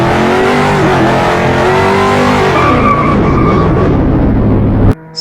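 A Corvette drifting in the video game Car Driving Ultimate, its engine droning loudly and steadily with sliding tire squeal layered over it, cut off abruptly near the end.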